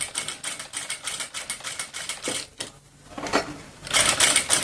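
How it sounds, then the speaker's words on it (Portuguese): A sewing machine stitches stretchy gauze muslin fabric with a size 14 needle at stitch length 3, running in rapid mechanical bursts close by with a brief pause midway and no talking. "Você tem que ir costurando e empurrando, ó."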